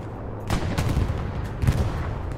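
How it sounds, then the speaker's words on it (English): Aircraft strafing run by the commander in Hell Let Loose on the Sainte-Mère map, a couple of dense bursts of rapid gunfire with heavy low thuds, fairly loud and slightly distant, no voices. "Nice strafing run by Command."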